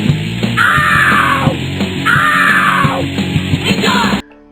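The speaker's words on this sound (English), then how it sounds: "And do you hear that scream?" A loud, harsh scream from a Chinese Flash game rings out twice in long back-to-back bursts over busy game sounds, then cuts off abruptly.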